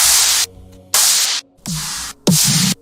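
Four bursts of synthesized white noise shaped into Pryda-style snare hits, each a broad hiss cut off sharply, the later ones with a short pitched tail beneath; evenly spaced, loud and alone.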